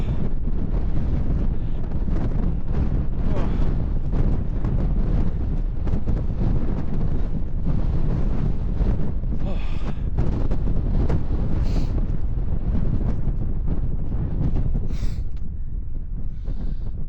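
Strong outdoor wind at Uppermill, Saddleworth, roaring steadily and buffeting the microphone as one loud, unbroken rumble, with no talking.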